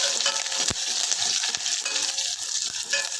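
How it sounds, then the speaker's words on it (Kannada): Dry red chillies and curry leaves frying in hot oil for a tomato rasam tempering, a loud bright crackling sizzle with occasional sharp pops and clinks of a spoon. "ಸ್ವಲ್ಪ ಫ್ರೈ ಆಗ್ತಾ ಇದ್ದಂಗೆ ಒಣಮೆಣ್ಸಿನ್ಕಾಯಿ ಕರಿಬೇವು ಹಾಕ್ಕೊಂಬಿಡೋಣ"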